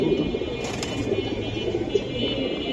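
Silver giribaz pigeons coo softly in low, repeated throaty notes over faint background noise, heard briefly and close.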